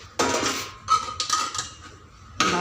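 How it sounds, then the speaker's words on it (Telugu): A spoon stirs flour batter in a vessel, giving a few loud, close scraping and clattering strokes against the container, separated by brief quieter gaps, with no talking. "బాగా కలుపుకోవాలి అనమాట."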